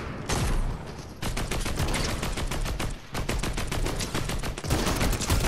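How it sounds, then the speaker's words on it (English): Gunfire rattles through a Fortnite match as the player takes fire from a bush near a gas station, sounding as dense, rapid automatic bursts with brief pauses, loud and sustained, with no talking. "we're getting shot from the bush, I think."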